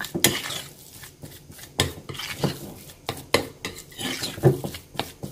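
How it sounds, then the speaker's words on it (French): A spoon stirring a melted caramel and chocolate mixture in a bowl, producing irregular clinks and scrapes against the bowl, close and moderately loud with no talk. "vous allez bien mélanger"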